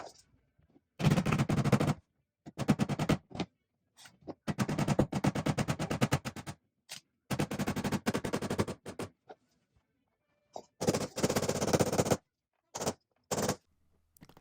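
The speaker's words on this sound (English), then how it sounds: "Nailing, nailing, nailing." Laminate flooring is nailed down in rapid bursts of sharp, machine-gun-like pneumatic firing, loud and close, separated by short silent pauses, with no talking.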